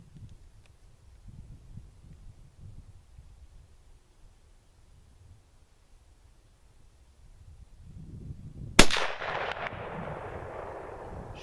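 A single sharp report from a Mauser K98 bolt-action rifle, loud and close, with a broad rumbling decay after a quiet stretch of faint low background noise.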